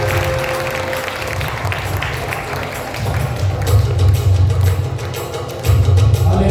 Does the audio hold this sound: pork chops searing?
no